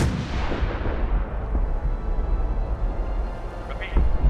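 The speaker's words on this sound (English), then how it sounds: "So I ordered an artillery strike on their blimp." An artillery strike hits the Brotherhood airship in Fallout 4, a dense, rumbling barrage of booms that rolls on steadily for several seconds, with a sharper blast near the end.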